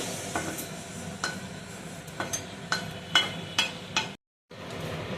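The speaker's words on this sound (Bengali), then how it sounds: "একে একে আরও যেসব ওই চিকেনটা আছে, এটা আছে, গাজরটা আছে, আমি ভেজে নেব" Chicken and carrots fry in oil in a hot pan, giving a steady sizzle broken by sharp, irregular clacks of stirring against the pan. A brief dropout comes near the end.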